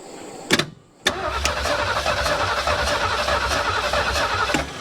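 A 1973 Ford Mustang Mach 1 with a carburetor and a leaking fuel pump cranks briefly, falls quiet, then catches and settles into a steady, rough, close running idle.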